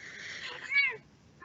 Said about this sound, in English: We have a cat among our audience.